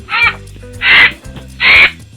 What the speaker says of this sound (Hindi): फिर कौवा काव काव करने लगता है।